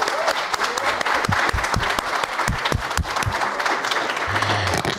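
An audience applauds to welcome a speaker at a Brazilian interfaith panel on fighting hunger, with steady, full clapping and some voices mixed in.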